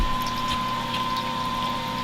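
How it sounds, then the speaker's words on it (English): An electric pump on a homebrewing setup runs with a steady motor hum, while draining wort gurgles and trickles through it, close and constant with no speech. "turn the pump on just for a second, and then crack the outlet valve."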